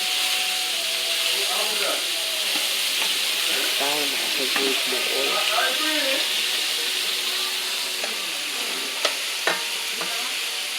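Pork pieces frying in hot oil for sweet and sour pork, a steady loud sizzle with stirring and scraping throughout, a couple of sharp utensil clicks near the end.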